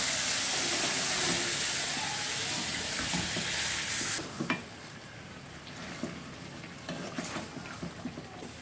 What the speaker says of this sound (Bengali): দিয়ে ভালো করে মাংসটা বেশ কিছুক্ষণ ধরে কষাতে থাকবো।